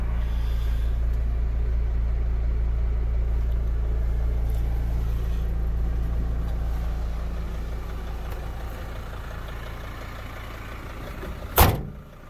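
A 2006 Sprinter 2500 diesel van engine runs steadily with a deep, low idle drone that stays even for most of the stretch, then a single sharp thump near the end, likely a door.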